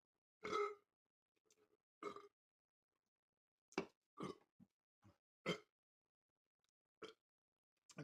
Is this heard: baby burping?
yes